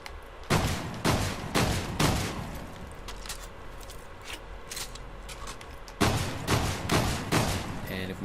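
Shotgun bursts aimed at wood piles in Call of Duty Ghosts: quick clusters of loud booming blasts, a pause filled with rumbling echo, then another rapid volley, heard alone without speech.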